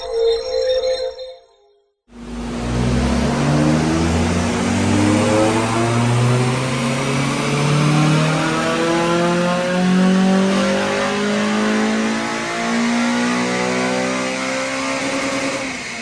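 A Honda Civic EP3 Type R with a modified exhaust revs through a stock dyno power run, its engine climbing in a long, loud, continuous sweep after a brief pause, close and alone without talk.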